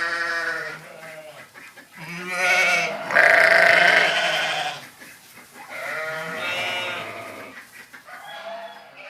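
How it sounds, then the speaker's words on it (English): Sheep bleat in overlapping, wavering cries, loud and close, with a brief pause between bursts. "Those be my sheep."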